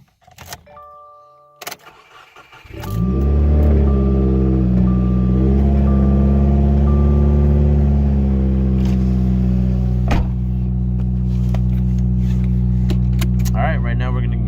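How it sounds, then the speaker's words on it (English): Subaru WRX engine cold start: keys jangle and chimes sound first, then the starter cranks and the engine catches into a loud, steady high idle, with a brief voice near the start. "cold start."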